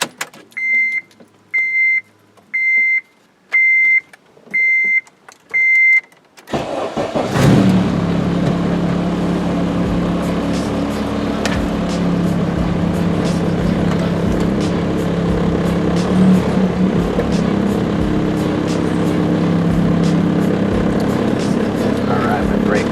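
A 2006 Honda Civic Si with a K24/K20 engine swap and a 3-inch Rev9 catback exhaust pulls away on a test drive. Six short chime beeps come first, then a loud, steady engine and exhaust drone fills the cabin.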